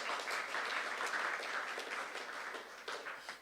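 A church congregation applauds during a youth service sermon, a sustained wash of clapping, fairly distant and soft, fading slightly toward the end.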